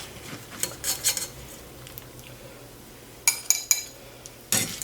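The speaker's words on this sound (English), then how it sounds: "I'm using a fish slice to do that, just so I can keep the fat in the pan" Bacon is lifted out of a pan of fat with a fish slice: scattered metallic clinks and scrapes against the pan, clustered in short bursts with quiet gaps between.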